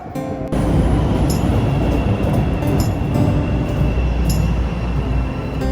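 A Chicago Red Line subway train rumbles steadily through Cermak-Chinatown station, loud and continuous, with faint metallic squeals and clicks riding over the low roar.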